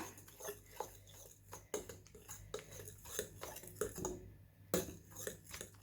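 Milk being stirred by hand into a banana milkshake in a bowl, with repeated clinks and scrapes of a spoon against the dish in an irregular rhythm, close and moderately loud, no talking.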